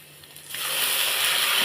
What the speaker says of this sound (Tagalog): Ito yung pusit. Lagay na natin.